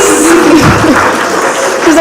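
Applause from the audience at an Open Source Community Africa conference session, a dense steady clapping that carries on under a voice speaking over a loudspeaker.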